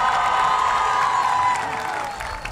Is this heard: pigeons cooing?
no